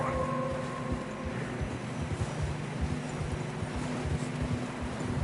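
Steady, muffled hoof clomps of horses plodding through fresh snow in Red Dead Redemption 2, under a constant low rumble of wind and ambience, with no voices.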